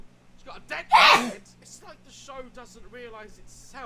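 A single sharp sneeze bursts out near the start, loud and close, while a person keeps talking before and after it.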